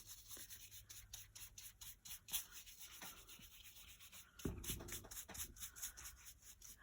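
A paintbrush drags black paint across a chippy wooden Easter egg in quiet, close strokes that scratch and rub in an uneven rhythm, with one louder stretch of brushing near the end.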